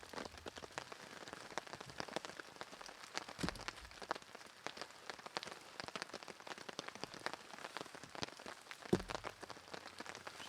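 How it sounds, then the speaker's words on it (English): Heavy rain pouring in a forest during a solo bushcraft overnight, a dense steady patter of drops striking nearby surfaces, with a couple of soft low knocks and no voices. "everything is soaked and it's pouring rain"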